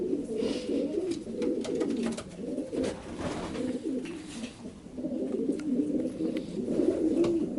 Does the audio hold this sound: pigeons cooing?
yes